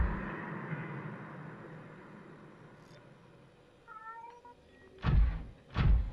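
A cat meows in the video game Subnautica, with soft faint mews in the middle followed by two loud, close, drawn-out meows near the end over a low ambient hum.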